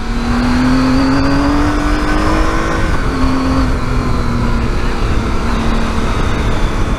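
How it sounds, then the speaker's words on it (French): A big supermoto motorcycle accelerates hard in first gear on a country road in Ardèche, its engine climbing in a loud, close, rising drone before shifting up and pulling on with steady roar. "en première elle est violente si j'accélère à fond en sortie là"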